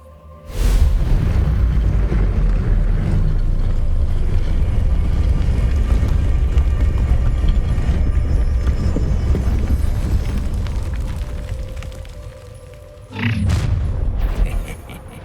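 An Incendio fire spell cast in Hogwarts Legacy erupts with a sudden deep boom into a loud, sustained roaring rumble that slowly fades, followed by a second heavy burst near the end.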